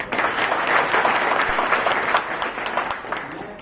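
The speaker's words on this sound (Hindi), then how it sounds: "ताली बजा दो यार सबके लिए" Attendees at a railway safety campaign address in Ballia break into applause for the chief inspectors, a dense, loud burst of crowd clapping that swells early and gradually thins, with faint voices beneath.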